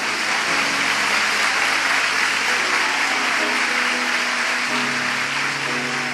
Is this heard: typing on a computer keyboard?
no